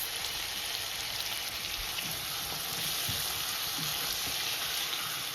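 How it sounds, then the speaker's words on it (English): Steady, soft sizzling of potatoes frying in oil, a continuous hiss with faint occasional pops and stirring, no voices. "the potato been frying here for 2 to 3 minutes"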